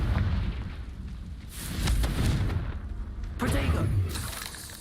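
Confringo fire spell blasts in the Hogwarts Legacy video game, three booming bursts about a second apart, loud and crackling over steady game sound with some voice.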